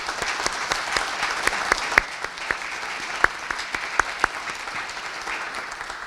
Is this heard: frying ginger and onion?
no